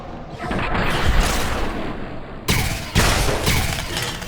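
Gunfire from a custom weapon in the modded shooter Fallout New Vegas, with dense, continuous noisy bursts and two sharp louder shots near the end, no talk.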